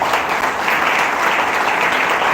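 Steady, dense applause from an audience at an award ceremony, loud and continuous throughout with no voices over it.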